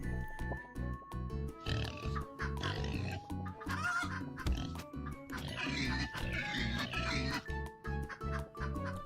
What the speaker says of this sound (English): I hit the pig 3 times.